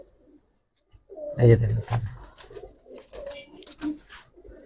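Racer pigeons in a loft giving low, soft coos in a few short bursts, close by, with someone talking over them.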